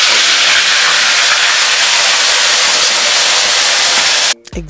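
Pepper added to a hot frying pan for Nigerian efo riro hisses into a loud, steady broadband sizzle lasting several seconds, then cuts off abruptly near the end.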